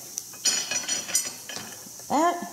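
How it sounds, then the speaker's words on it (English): A whisk stirring in a pan, close up: short scraping and tapping strokes against the metal, with a voice briefly heard near the end. "This whisk gets in the corners better and doesn't make a mess out of my pan."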